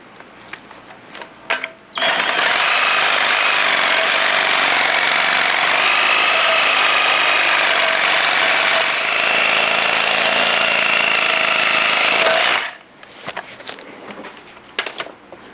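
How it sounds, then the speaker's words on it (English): A Sawzall reciprocating saw cuts into the plastic motor mount of a 2008 VW Mk5 GTI, a loud steady buzzing rasp running about ten seconds, close up, with a slight pitch wobble and handling clatter before and after. "Take a Sawzall blade and try to split this plastic piece and see if we can pry it out of there."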